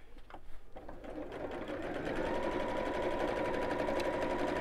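A sewing machine runs steadily, stitching around the edge of a fabric messenger bag with the stitch length set to 2.8. The motor hum starts after a brief uneven moment, then holds loud and continuous, close up, with no talking.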